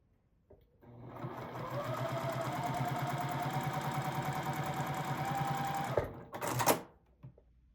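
A sewing machine joins two quilt blocks with one steady, close run of about five seconds, then stops, followed by a short clatter.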